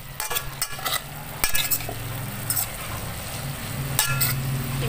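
Egg and sayote (chayote) sizzle in a pan while a utensil stirs them, with sharp clinks and scrapes against the metal every second or so over a steady, close frying hiss.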